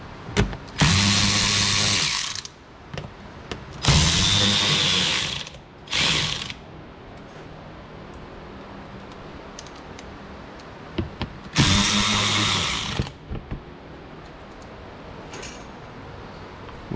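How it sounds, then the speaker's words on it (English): A power tool undoes Torx fasteners in the wheel well of an Audi Q5, with three loud, close bursts of whirring ratchet buzz a couple of seconds each, plus a short blip, separated by quiet handling clicks. "I'm gonna undo these Torx fasteners here."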